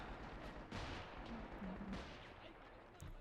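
A double gun emplacement in the video game Men of War: Assault Squad fires a rapid run of faint, distant shots, like an automatic weapon, set against the low, constant noise of a battlefield.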